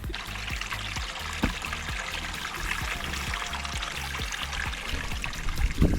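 Mountain spring water pouring and trickling steadily from a rock source as it is collected into a container, with a continuous close splashing stream and a few soft knocks.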